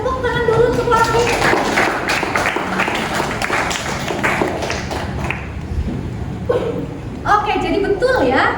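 Classroom students clap for a classmate: a brisk burst of many hands that fades after a few seconds, with a teacher's voice and some chuckling around it.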